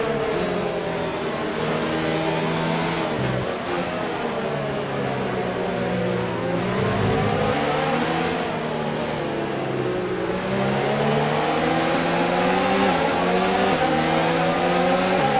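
An F1 race car engine in the F1 2019 video game drones steadily throughout, with rising and falling revs as the car accelerates and shifts, loud and continuous without talk.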